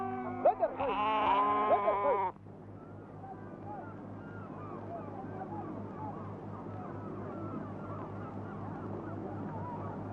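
Lambs bleat at dawn in a Bedouin desert camp in Kuwait as they are released from a rope line. A loud cluster of bleats comes first, then many fainter overlapping bleats continue over a steady low hum.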